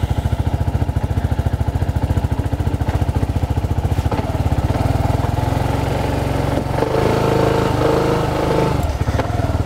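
A BMW C400GT scooter engine idles steadily right after starting, a close, even low thrum that holds alone with a slight rise in pitch toward the end.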